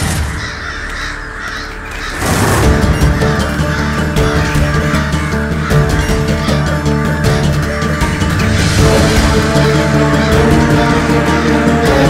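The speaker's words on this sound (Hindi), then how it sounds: "अरे ये क्या भला इतने सारे कौवे एक साथ?" A large flock of crows caws loudly and continuously, many harsh overlapping calls forming a dense, steady chorus after a quieter opening two seconds.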